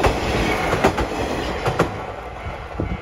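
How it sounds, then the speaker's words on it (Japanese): A Hojo Railway KiHa 40 diesel railcar rolls past nearby in quiet countryside, its wheels clacking in an irregular rhythm over a steady rumble. "というわけで列車が通過をしてきました。"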